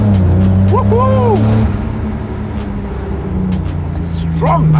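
Engine note of a BMW E30 325i convertible converted into a pick-up and running an E36 engine, pulling hard with rising revs close by inside the car, while people talk and whoop over it.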